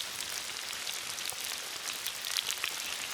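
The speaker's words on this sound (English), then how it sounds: "It's raining, not hard, but it's enough to get you wet." Rain pattering steadily on surfaces, an even hiss of drops with no voices.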